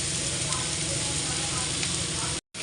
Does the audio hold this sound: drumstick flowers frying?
yes